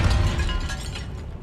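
A Depulso spell from Hogwarts Legacy strikes inside a tomb, giving a loud, dense shattering burst with crackling debris that holds steady and then slowly thins out.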